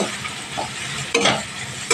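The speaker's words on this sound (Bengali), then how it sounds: "এক মিনিট মতো একটু নাড়াচাড়া করে নেওয়ার পর" Onion and garlic sizzle in hot oil in a pan while being stirred, with a steady soft fry broken by two sharp scraping stirs.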